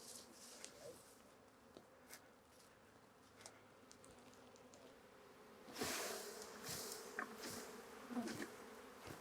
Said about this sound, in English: Bees in a box.